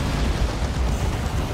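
Manticore strike explosions in Dawn of War 2 make a dense, loud, rumbling burst of booms, low and continuous for a short moment with no talk.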